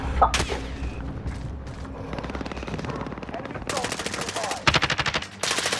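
Call of Duty gameplay brings bursts of rapid automatic gunfire with sharp clattering shots, some close and loud and some farther off, while a player talks and reacts over the shooting.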